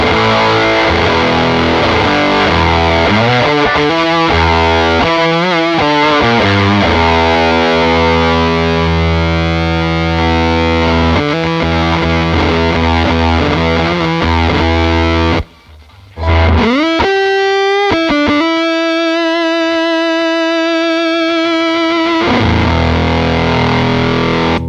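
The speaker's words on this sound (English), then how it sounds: "the pedal goes from a tight distortion to more of a fuzzy sound." Heavily fuzzed electric guitar through a Katzenkönig Controls Dive Down pedal plays sustained chords and riffs, thick and buzzing, with a short pause before a final held chord.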